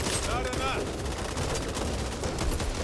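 Dense, continuous assault rifle fire and other gunfire in the video game Back 4 Blood, loud and relentless throughout with overlapping bursts, while voices chatter underneath.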